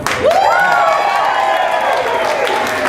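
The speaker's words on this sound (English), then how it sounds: "Everybody cheer her on." An audience at an improv comedy show whoops and cheers, one rising, sustained vocal whoo carrying over a broad wash of crowd noise and clapping, loud and close.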